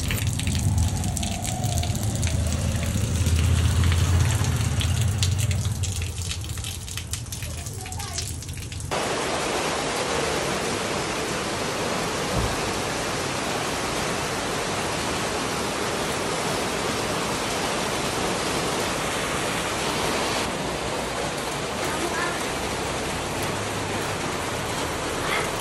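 Steady rain falls outdoors in a village, a continuous broadband hiss of drops that fills the scene; low rumble and a few voices sit under it at first before the rain carries on alone.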